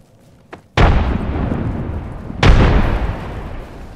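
Two frag grenade explosions go off in the Apex Legends video game, each a sharp loud blast with a long rumbling tail, after a faint pop just before the first.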